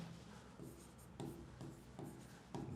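Pen scratching across paper in short, quiet strokes with a faint rhythmic rub, close and soft, with brief pauses between the written words.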